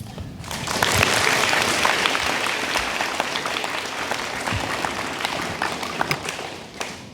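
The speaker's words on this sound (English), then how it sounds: "Can we have a big round of applause for all our third graders?" Audience applause at an elementary school Memorial Day assembly, a broad, steady wash of many hands clapping that swells after the first second and carries on for several seconds, with a few louder individual claps near the end.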